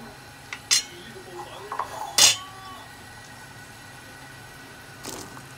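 Metal clinks ring against a pot as string beans go into crab cooking in coconut milk. There are a few sharp, separated knocks, the loudest in the middle, with quieter rustling between them.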